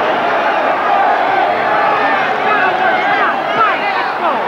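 A boxing crowd cheering loudly near the final bell, a dense continuous roar with whoops and shouts, under a commentator's talk.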